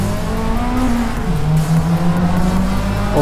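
Toyota AE86 engine in the Forza Motorsport racing game, a loud steady roar climbing and shifting in pitch as the car pulls away from the start.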